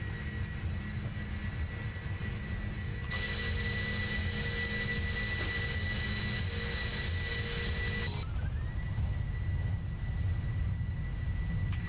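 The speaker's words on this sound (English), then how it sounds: "Oh, those engines are beautiful." A PMDG 747-400ER in the Prepar3D flight simulator spools its jet engines to takeoff thrust, producing a loud, unbroken roar with steady whining tones that shift partway through.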